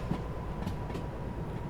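A freight train in the Derail Valley railway game rolls slowly in reverse, a steady low rumble with a few soft knocks and clicks from the wagons, close and continuous, without talking.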